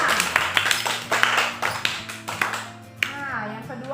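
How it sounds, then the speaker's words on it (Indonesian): Students in a fifth-grade classroom clap for Risma's group, a short run of near, loud claps with speech over them. "Benar sekali, tepuk tangan tadi Risma."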